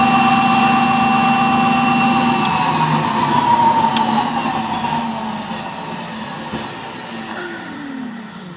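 An electric motor drives the plywood flywheel and pulley train of a refrigeration compressor test bench, giving a close, steady mechanical hum with whining tones that slowly fall in pitch as the machine winds down.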